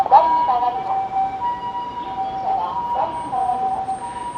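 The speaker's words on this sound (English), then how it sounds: "I can hear the ambulance." A wailing ambulance siren rises and falls repeatedly at a distance in Shin-Osaka, Japan, moderately loud, over a low hum of traffic.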